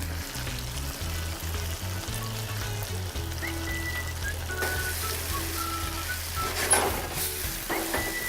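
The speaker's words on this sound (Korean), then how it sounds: "물기를 제거한 국수를 부어주세요. 그리고 숙주도 같이 넣어주세요." Drained noodles and bean sprouts stir-frying in a hot pan for a spicy snow crab noodle dish, a close, steady sizzle with intermittent tossing and scraping, no voices.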